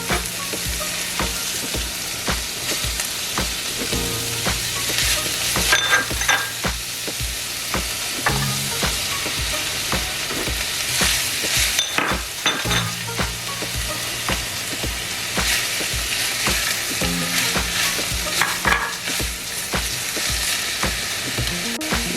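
Vegetables stir-fry in an oiled pan for chicken manchow soup, a steady close sizzle with rhythmic scraping and stirring strokes running throughout, no talking.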